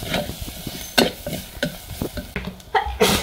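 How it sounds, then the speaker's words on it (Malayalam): Turmeric and fish masala powder stirred and fried in a pan, a steady close sizzle broken by repeated scraping strokes of the spoon, with no talking. "മീൻ പൊടികളൊക്കെ നമുക്ക് നന്നായിട്ടൊന്ന് മൂപ്പിച്ചെടുക്കാം."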